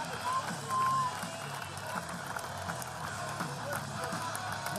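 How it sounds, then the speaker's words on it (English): A strongman event crowd claps rhythmically in support of a competitor, with steady, moderately distant clapping under a commentator's talk. "The crowd clapping, getting behind him."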